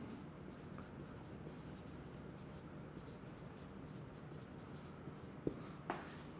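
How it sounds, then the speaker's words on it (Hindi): Writing on a board during a chemistry lecture about real gases, a faint continuous scratching that runs steadily under room noise, with a couple of small knocks near the end. "तो मैं यहाँ पे लिख देता हूँ"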